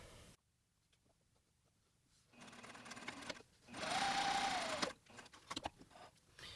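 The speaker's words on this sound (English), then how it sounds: "start with a back tack, sew it 1/2 inch, following the curve of the side seam, and end with a back tack" A sewing machine runs a half-inch side seam on custom pants, with a short back tack, a steady run of stitching along the curve and another quick back tack, close by with no talking.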